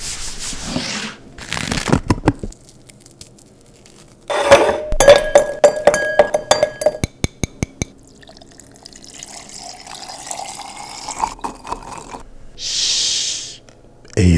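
Ice cubes clink and rattle against a glass up close in a quiet ASMR setting, with scattered sharp taps, rubbing and crackling between stretches of near silence.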